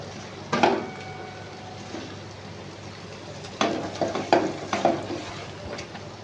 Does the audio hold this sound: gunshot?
no